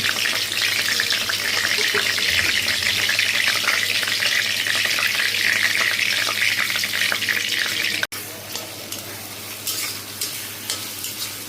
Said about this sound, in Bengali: তারপর দিয়ে দিলাম শুকনা মরিচ ফোড়নের মধ্যে।